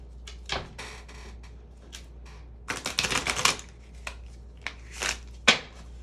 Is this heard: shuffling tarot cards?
yes